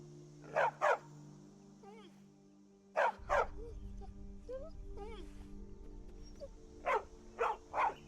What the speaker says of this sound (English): Oh, sweet, we got a dog now, I guess.